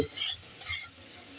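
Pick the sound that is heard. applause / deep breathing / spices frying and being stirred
spices frying and being stirred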